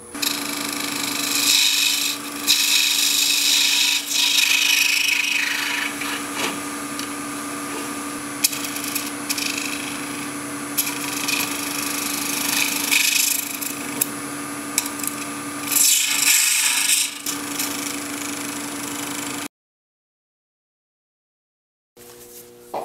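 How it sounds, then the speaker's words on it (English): A small skew chisel cuts a cast resin lid spinning on a lathe, giving a steady close scraping hiss with brief interruptions, then a sudden silence near the end. "I've got a flat spot there, so I've got a very small skew chisel."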